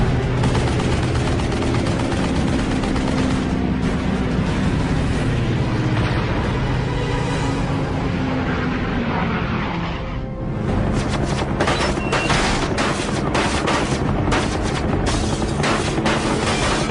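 Machine gun fire from a Corsair's .50 caliber guns, dense and continuous rattling bursts mixed with heavy booms and roaring, loud and crowded throughout with a brief dip midway, no talk.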